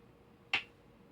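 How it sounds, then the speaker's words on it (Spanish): A single sharp hand clap, made as a sync mark for a sound recording, rings out once near the middle against a quiet room background. "Simplemente un aplauso."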